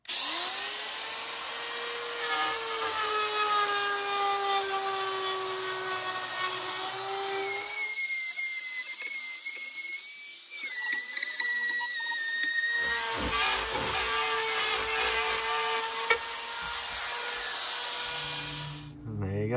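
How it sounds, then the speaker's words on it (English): A RotoZip rotary saw fitted with a guide tip cuts through drywall along framing, a loud, steady high-pitched whine that dips and shifts in pitch as the bit works through the board, running nearly continuously with no talk. "I'm just going to take my rotozip with the guide tip and use this framing right here to guide this saw to cut this drywall out."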